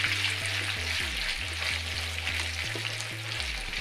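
Chicken frying in a pan with coconut oil for chicken kondaattam, a continuous hissing sizzle over a low mechanical hum.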